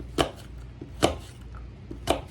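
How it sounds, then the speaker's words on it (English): A knife chopping through an unpeeled apple into small chunks on a cutting board, three sharp, evenly spaced thuds about a second apart, close and clear with no talking. "I don't want to peel it, but I am going to cut it up in little chunks"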